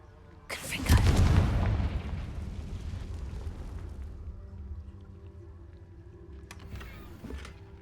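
A Confringo blasting spell explodes in the Hogwarts Legacy video game, a single loud booming blast that swells quickly and then decays into a long rumbling tail, followed by a faint later crackle.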